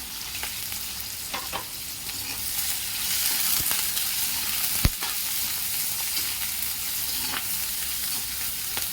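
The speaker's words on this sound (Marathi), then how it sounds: "कांदा लालसर होईपर्यंत परतून घेऊ।" Sliced onion and green chillies fry in hot oil with mustard seeds and asafoetida, a steady close sizzle broken by a few sharp clicks and scrapes as the pan is stirred.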